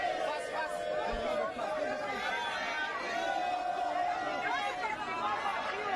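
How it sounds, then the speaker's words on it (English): Large outdoor crowd gathered to cheer a president at a public launch event, a steady dense roar of many voices chattering and calling out continuously, with no single speaker standing out. "Thousands of people are here cheering on the president for his efforts so far to establish his commission"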